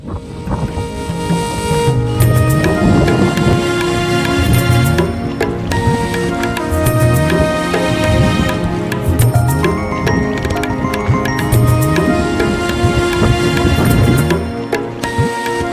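A river swollen after rain at Kadiya Dhro in Kutch rushes in a loud, continuous roar, with a steady layer of music playing over the flowing water throughout.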